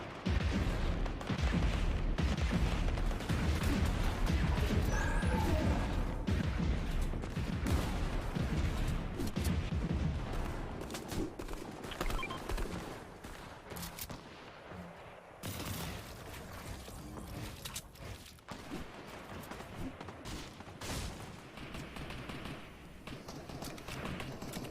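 Continuous weapon fire fills a Fortnite trios match, with dense overlapping shots and bursts that are heavier early on and thin somewhat later, mixed with a steady clutter of game effects.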